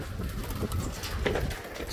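Pigeons coo softly near a loft, low murmuring calls against faint background rustle and patter.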